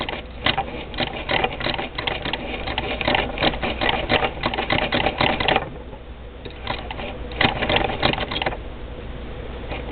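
Singer Model 20 toy sewing machine stitching a strip of fabric, a fast rattling mechanical chatter that runs steadily, pauses briefly midway, then resumes in short bursts close by.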